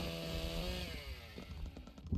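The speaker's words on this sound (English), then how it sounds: "Oh, chainsaw." A chainsaw revs in the Broforce video game, a steady mechanical drone with rising harmonic whine, joined by choppy game action and impacts toward the end.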